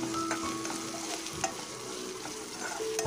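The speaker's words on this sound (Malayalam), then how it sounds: "സവാളയും പച്ചമുളകും ശകലം ഉപ്പും കൂടി ചേർത്ത് ഒന്ന് നമുക്ക് വഴട്ടിയെടുക്കാം." Onion, green chilli and salt sautéing in a pan for potato Manchurian, with a steady close sizzle and a few scattered clinks of a spoon stirring, no talking.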